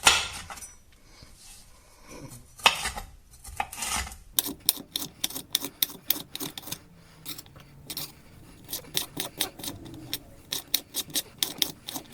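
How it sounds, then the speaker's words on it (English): Peppers being chopped for a seafood paella, a few scraping knife sounds at first, then a long run of quick, crisp knife strikes on a cutting board, close and fairly steady with brief pauses. "we'll also finally chop the peppers"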